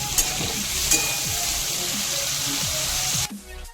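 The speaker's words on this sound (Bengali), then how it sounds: "গরম তেলে দিয়ে দিচ্ছি কেটে রাখা আলু আর ফুলকপি" Chopped potatoes and cauliflower frying in hot oil with salt, a loud, steady close sizzle with a few stirring knocks, ending abruptly.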